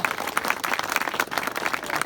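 A crowd at a large political gathering in Azad Kashmir applauds in a dense, continuous patter of hand claps lasting a couple of seconds, fairly loud and without a voice over it.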